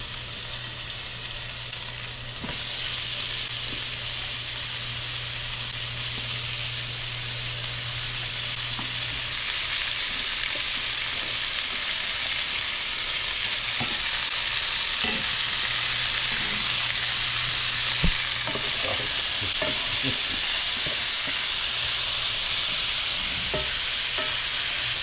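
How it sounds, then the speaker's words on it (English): Onions and peppers frying in a pan, a loud, continuous sizzle with occasional clicks and stirring scrapes, steady throughout with no talking. "Gonna cook our onions and peppers now."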